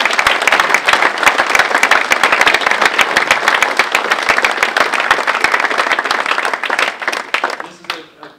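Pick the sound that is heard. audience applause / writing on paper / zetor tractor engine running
audience applause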